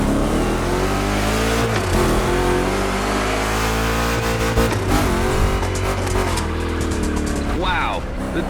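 Chevy big block engines in The Crew Motorfest revving hard and loud, with rising and falling roars and shifting pitch throughout while a voice talks over the engine noise.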